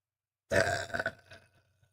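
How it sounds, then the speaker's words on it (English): A single loud, drawn-out burp bursts out close to the mic after silence, rumbling for about a second before trailing off into faint throaty remnants. "That's a pretty solid burp, eh?"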